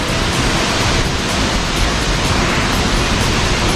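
La Escalera cascade near Xico roars as a continuous, loud broadband wash of falling water, steady and close with no voices over it.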